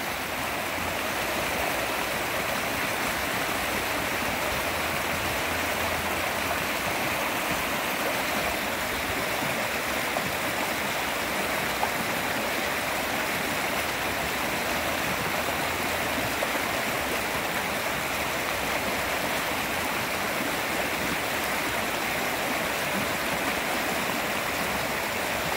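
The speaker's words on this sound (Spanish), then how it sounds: "Escucho el río, el río." A steady rush of flowing river water runs continuously and evenly throughout, loud and broadband with no breaks, heard outdoors among trees with no talking.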